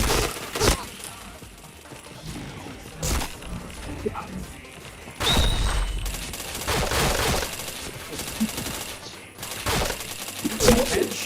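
Bursts of gunfire from a shooter video game crack out in several loud, separate volleys with short gaps between them, mixed with crashing impacts, while a voice talks over parts of the stretch.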